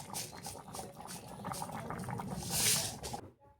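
Chana dal simmering in a pot bubbles softly with a quick, busy burbling patter that swells briefly before cutting off abruptly; quiet and close, no voices.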